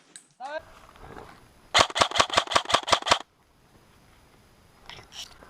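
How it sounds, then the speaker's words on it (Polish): A rapid string of about eight sharp gunshots crackles in a steady burst ahead during an airsoft assault, fairly close, surrounded by quiet rustling and a few faint murmurs. "Strzały z przodu."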